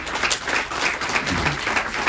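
A crowd at a Disability Day event at an eye institute applauds: a dense burst of many hands clapping in quick, steady rhythm, fairly loud and continuous.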